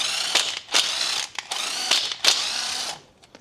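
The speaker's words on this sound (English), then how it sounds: "It's a thread cleaner. I just put it in the hole, just like that." A thread cleaner is run in and out of bolt holes on a 2024 vehicle, giving close, bursty metallic ratcheting and whirring in several short spurts separated by brief pauses.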